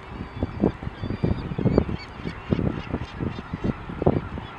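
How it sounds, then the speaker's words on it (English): A large flock of shorebirds, including marbled godwits and long-billed curlews, calls over the mudflats at the San Diego River mouth. Dense, overlapping honking cries repeat rapidly and fairly close, with no talk. "There's thousands of birds out here."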